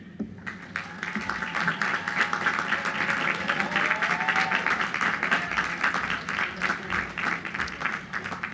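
A large audience claps continuously at the Queens College commencement ceremony, a dense, steady roar of applause that holds for several seconds before thinning slightly toward the end.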